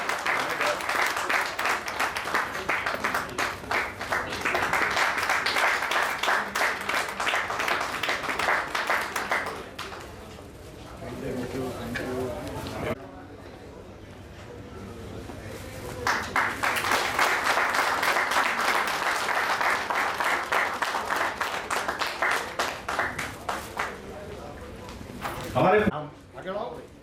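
Loud applause from the crowd at a Baroda Road Transport Association annual general meeting, two long sustained bursts of clapping separated by a lull with talking, voices also heard over the noise.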